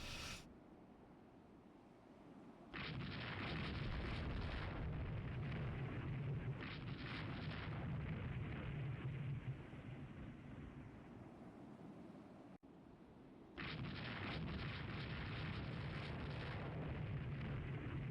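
Naval gunfire in the Rule the Waves 3 warship game: a sustained, roaring wash of cannon blasts, loud and dense, that drops away briefly before a second heavy barrage resumes.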